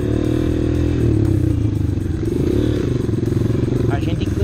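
A Honda CRF 230 dirt bike ridden through an off-road training course, its engine droning loud and close with a steady throbbing pulse, joined by some rattling and clatter.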